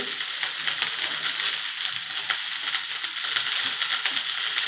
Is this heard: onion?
yes